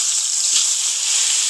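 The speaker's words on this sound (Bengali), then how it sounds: "এবার ভেজে নেব।" Katla fish pieces rubbed with salt and turmeric frying in hot oil, giving a steady, bright, close sizzle with no voices.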